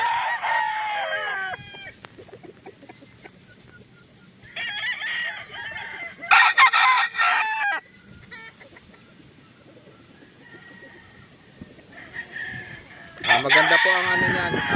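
Yellow-legged hatch brood stag rooster crowing in several separate loud bursts, with quiet gaps of faint farmyard background between the crows.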